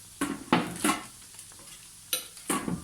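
Beignets cook in hot oil on gentle heat with a soft, low sizzle. Sharp clinks and scrapes of a utensil against the pan break through it at irregular moments.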